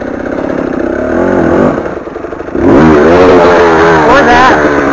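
KTM 300 TPI two-stroke dirt bike ridden over rough terrain in Mexico, its engine loud and close, dipping briefly then revving hard again, with a voice talking over it.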